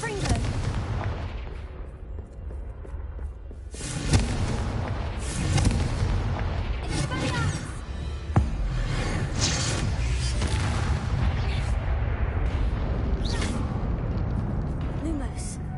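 A Confringo fire spell in Hogwarts Legacy fires off several sharp explosive bursts among game combat noise. A player voice talks over it at moderate loudness.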